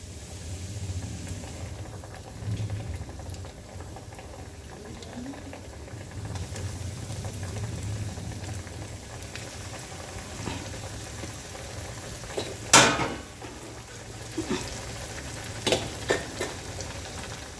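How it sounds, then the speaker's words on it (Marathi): Beetroot cutlets fry in hot oil, a low continuous sizzle with soft bubbling, joined later by a few sharp clinks and scrapes of a utensil against the pan. "असेच आपण दुसरा बॅच तळून घ्यायचा आहे"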